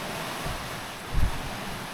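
Steady wind rushes over a sailboat running downwind in a breeze of about twenty knots, with a low swell and a brief thump of a wave against the hull near the end.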